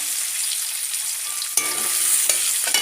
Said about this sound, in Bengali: আর ফোড়নে দিচ্ছি পেঁয়াজ আর কাঁচা লঙ্কা